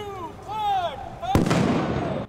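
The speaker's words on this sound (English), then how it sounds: "Cannon fire." A ceremonial cannon fires from the Spirit of Buffalo tall ship at Canalside: one sharp, loud blast follows voices, then a rumbling decay with crowd noise.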